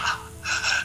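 A voice imitates a creature named Malchus breathing during a tabletop role-play game, two short breathy rasping exhalations close to the mic, separated by a brief pause.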